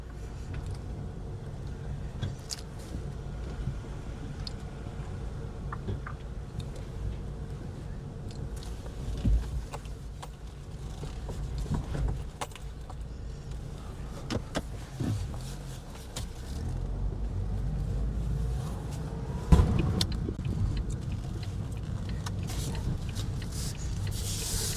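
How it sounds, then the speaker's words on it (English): A 2004–2009 Mazda 3 drives on the road after an engine mount replacement. A steady low road rumble and engine drone runs throughout, with occasional thumps and small bumps along the way. No one speaks. "Right, let me drive around."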